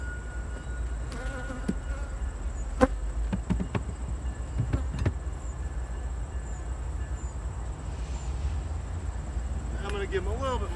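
Honey bees buzz in a steady close drone during a honey harvest, with a few sharp knocks and clicks scattered through.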